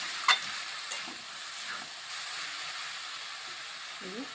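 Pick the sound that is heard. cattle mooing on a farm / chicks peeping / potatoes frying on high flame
potatoes frying on high flame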